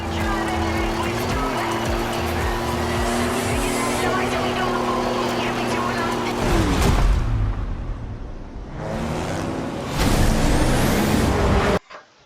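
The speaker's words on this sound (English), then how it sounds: "I like that turbo spool sound." A Ford Bronco's four-cylinder 2-liter turbo engine in Forza Horizon 5 revs loudly and steadily, then drops with a whooshing spool and hiss before surging again; a voice talks over it at times.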